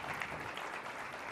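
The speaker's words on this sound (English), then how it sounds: "One more round of applause for this great discussion, please." Audience applause following a conference panel discussion on hemispheric security at a university, steady broadband clapping sustained evenly through the short stretch, moderately distant and without speech on top.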